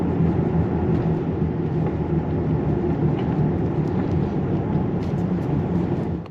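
A cheap 2JZ-engined car with a slight misfire and heavy blue smoke on a test drive, its steady low engine and road rumble continuous and close throughout, with no talking.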